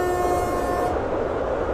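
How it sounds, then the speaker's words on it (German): Horn of the BA7.001 "Hamsterbacke" train on a curve en route to München Hbf, a steady tonal blast over constant rail rumble that cuts off partway, heard close from the cab with no talking. "Da können wir ruhig mal das Hörnchen drücken."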